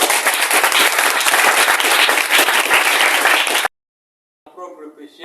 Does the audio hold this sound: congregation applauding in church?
yes